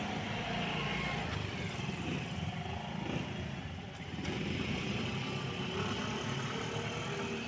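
A motorcycle engine idles nearby with a low, steady rumble that dips briefly before settling back.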